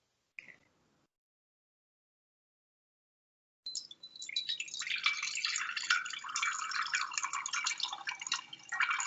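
Melted homemade ghee pours in a continuous liquid stream, starting after a brief drip and a long silence, then running close and steady to the end without talk.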